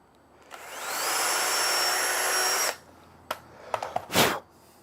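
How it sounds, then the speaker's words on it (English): A power drill boring holes in a home workshop: one long sustained high whine of about two seconds, then several short sharp bursts and a brief louder run near the end, close and loud with no talking. "I think I might as well drill all these while I'm here."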